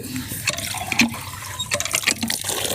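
Water gushes from a hand pump in repeated surges, splashing close by with no one speaking.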